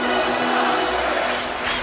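Sold-out Dodger Stadium crowd roaring on its feet during a tense playoff at-bat, a thick, continuous wall of crowd noise with no distinct voices, steady and loud throughout.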